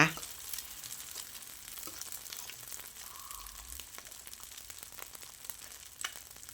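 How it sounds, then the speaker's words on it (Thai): Rice with cooked egg being stir-fried in a pan for a simple Thai egg fried rice, giving a low, steady sizzle with scattered scraping and tapping of the spatula throughout. "ใส่ข้าวลงไปแล้วเราก็ผัดให้เข้ากัน ผัดข้าวใส่ไข่นะคะ"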